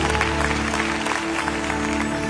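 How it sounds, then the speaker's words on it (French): A dense wash of clapping from a large church crowd, steady and loud throughout, with a low musical hum underneath. "Give God a great round of applause for that."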